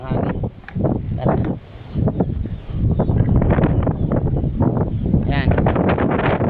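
Steady wind buffets the microphone throughout, a low rumbling roar beneath a person talking outdoors near Palanas Bridge in Lemery, Batangas, Philippines.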